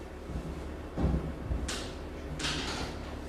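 A door being shut indoors: a dull thud, then sliding and scraping movement, followed by a second sweep of friction noise, all fairly close and with no talking.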